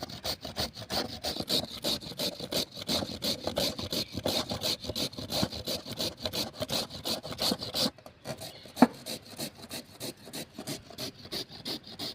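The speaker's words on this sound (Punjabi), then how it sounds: "ਆਪਾਂ ਨੇ ਜੀ ਸਾਰੀਆਂ ਗਾਜਰਾਂ ਜੀ ਕੱਦੂਕਸ ਕਰ ਲਈਆਂ ਜੀ" Carrots being grated by hand on a grater, a close, rhythmic rasping scrape repeating steadily for several seconds before pausing, then softer strokes, with no talking.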